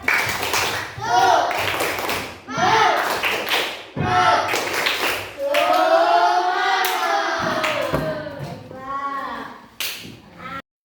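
An Indonesian school class performs a rhythmic spirit clap, patterned bursts of hand claps mixed with children chanting loudly together, pausing between phrases and ending abruptly.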